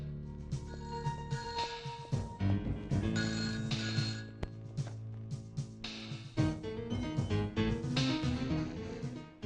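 A telephone rings in a police station near a lockup, a melodic electronic ringtone repeating in steady bursts, fairly loud and alone with no voices over it.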